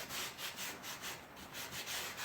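Rust is scrubbed off a cast iron skillet in quick back-and-forth strokes, a close, faint and evenly pulsing scratchy rasp.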